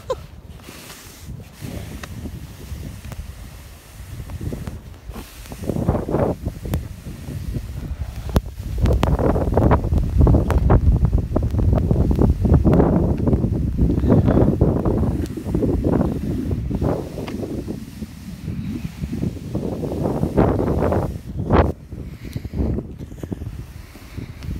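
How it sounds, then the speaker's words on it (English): Strong wind gusts of around 20 miles per hour in a heavy snowstorm blast the microphone in rising and falling surges, loudest mid-stretch, over roughly 25 seconds with no talking. "We got good 20-mile-an-hour gusts for sure."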